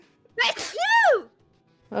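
One sharp, loud sneeze bursts out close to the microphone and is followed by a quiet pause before a voice starts to speak.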